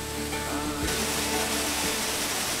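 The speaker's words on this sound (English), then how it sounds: "We're on the top of the waterfalls." Waterfall in the Scottish Highlands heard from the top of the falls, a steady wash of falling water with other faint tonal sounds over it in the first second.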